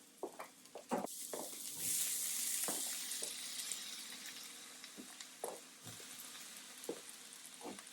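Tomatoes tossed into a hot pan with sautéed spaghetti squash and vegetables, giving a steady close sizzle with a louder hissing burst as they land, plus a few clinks and stirring scrapes, no talking.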